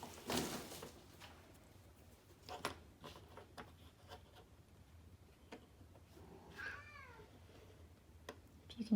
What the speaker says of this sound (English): If you can hear my cat meowing,